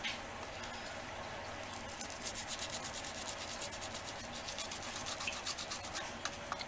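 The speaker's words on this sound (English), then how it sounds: "I'm going to gesso over the gems." A brush spreads gesso over a chipboard crown and its gems in quiet, close scrubbing strokes, a soft continuous rubbing with faint ticking dabs.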